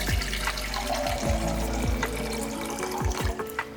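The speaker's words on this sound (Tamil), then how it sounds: "1/4 கப் அளவுக்கு தண்ணி ஊற்றிக்கலாம்." Water poured from a vessel onto mutton in a cooking pot, a steady close trickle and splash with a few soft knocks, running for a few seconds without talk.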